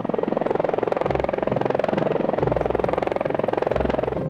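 Rotor of a helicopter in the Roblox game Brookhaven, a steady loud chopping drone with rapid regular beats throughout, no talk over it.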